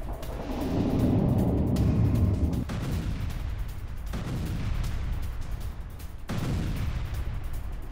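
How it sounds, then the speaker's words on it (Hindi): Heavy distant booms and rumbling blasts at Morozovsk airbase in Russia roll over one another, with several sudden sharp onsets amid a continuous low roar. "रूसी एयरबेस में सुने गए कई धमाके"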